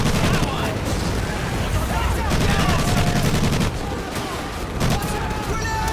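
Dense battlefield gunfire from Medal of Honor Pacific Assault, with overlapping rifle and machine-gun bursts throughout amid loud, cluttered combat noise and voices.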